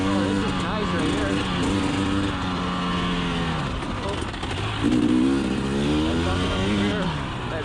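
A 2020 KTM 300xc TPI two-stroke enduro dirt bike ridden off-road, its engine droning and rising and falling in pitch with a sharp rev climb midway, steady and close throughout.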